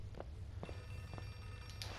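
An old telephone rings inside the Outlast 2 horror game, a few faint, brief bell bursts scattered over a steady low ambient drone, with no talking.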